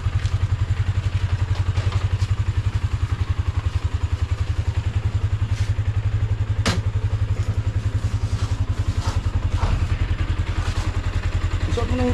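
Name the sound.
motorcycle engine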